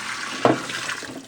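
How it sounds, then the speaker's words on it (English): Water is poured from a container into a basin for reuse in washing towels, a short splashing gush that swells and then trails off into running liquid. "I'm just gonna reuse this water to wash the towels that have been sopping up the floor."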